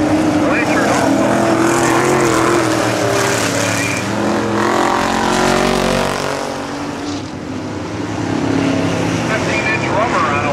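Modified-division race cars on 15-inch tires roar around a night oval track, engines loud and continuous as they pass, with an announcer talking over the din.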